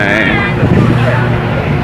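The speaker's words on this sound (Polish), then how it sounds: "wielki silnik diesla napędza nasz ferry" A ferry's large diesel engine drones steadily on departure from Bari, a continuous low hum beneath a busy wash of background chatter and onboard noise, with a voice speaking over it.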